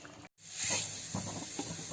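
A brief sharp hiss of hot oil tempering hitting lemon curry, fading into a soft sizzle after a short cut.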